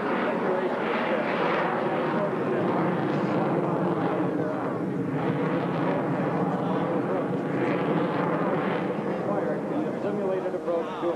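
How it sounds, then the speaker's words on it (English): An F-14 Tomcat jet fighter flies a touch-and-go landing at an air show, its engines roaring loudly and continuously throughout with a swelling, rumbling jet noise. "Touch-and-go landing."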